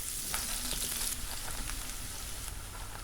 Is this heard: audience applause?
no